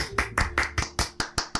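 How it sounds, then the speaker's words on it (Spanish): Handclapping during a Spanish-language podcast, about nine sharp, evenly spaced claps in a quick steady rhythm, close and fairly loud with no voices over them. "¡Un aplauso!"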